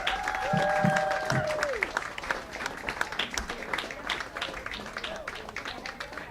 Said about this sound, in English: let's have a nice round of applause with the one and only, the maestro himself, Mr. Arthur Marcello